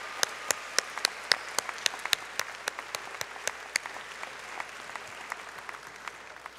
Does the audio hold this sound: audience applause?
yes